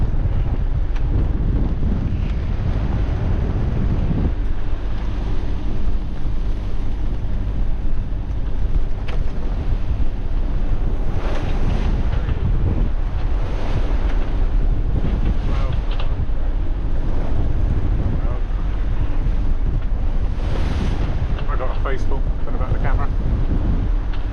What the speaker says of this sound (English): Just got to get through these waves.